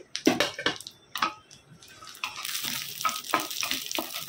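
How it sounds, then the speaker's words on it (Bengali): Whole garam masala and bay leaves crackle and sizzle in melted ghee, a steady close frying hiss with a few sharper pops and stirring clatters, growing denser toward the end. "ঘিটা গলার সাথে সাথে এর মধ্যে গোটা গরম মশলা, তেজপাতা দিয়ে দিচ্ছি।"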